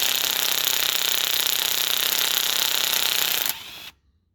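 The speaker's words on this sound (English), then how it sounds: "So you're going to take all the bolts off." A loud, steady power tool rattles continuously for several seconds while taking thread-locked bolts off an upside-down Briggs & Stratton engine, then stops abruptly into quiet.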